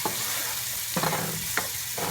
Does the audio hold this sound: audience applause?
no